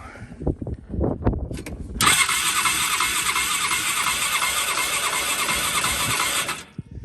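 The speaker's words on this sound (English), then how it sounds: "it doesn't sound too bad when it cranks over" A Polaris Ranger utility vehicle's starter whirs steadily as the engine cranks over for several seconds without catching, preceded by a few clunks and knocks.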